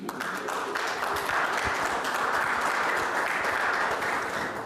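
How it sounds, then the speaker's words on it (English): A community safety meeting audience applauds steadily throughout, a dense, sustained wash of clapping from many hands with no break. "we like this applause"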